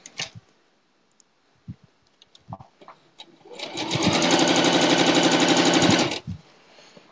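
A sewing machine runs a quilt seam in one steady burst of rapid mechanical stitching lasting about two and a half seconds, loud and close, preceded by a few soft handling clicks.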